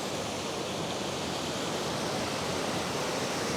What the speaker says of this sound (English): sheer volume of water coming down here